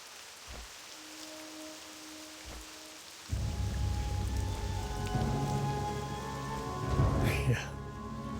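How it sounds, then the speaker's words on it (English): Rain falls in Mulgore in World of Warcraft Classic, starting after a few quiet seconds as a steady, fairly loud hiss of drops that holds to the end beneath soft game music tones. "Some rain in Mulgore today"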